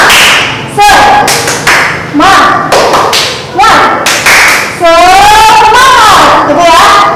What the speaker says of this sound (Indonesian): mari sama-sama kita tepuk semangat terlebih dahulu ya